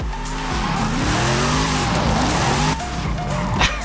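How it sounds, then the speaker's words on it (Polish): A drift car in Forza Horizon 5 slides with loud, sustained tire squeal over a revving engine, the pitch shifting as the car skids; a brief lift in the middle, then the squeal resumes, with faint talk underneath. "to jest po prostu kolejne auto driftowe w Forcie Horizon 5"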